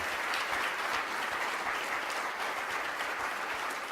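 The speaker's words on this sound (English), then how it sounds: "how about a round of applause for all the parents" A room of people at an adoption event claps steadily for adoptive parents, dense and even applause with no voices over it.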